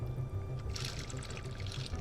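Water pours into a drinking cup or glass outdoors on a hot day in Atlanta, Georgia, a quiet close trickle that builds in the middle and fades over a low background hum, with no talk.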